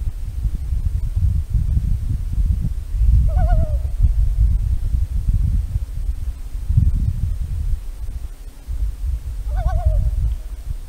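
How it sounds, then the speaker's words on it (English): A loon calls across Lake Chelan in Washington at dusk, two wavering, haunting wails spaced several seconds apart, heard at a distance over steady low wind and water rumble. "I think that bird out there might be a loon. They have a very distinctive and somewhat haunting call."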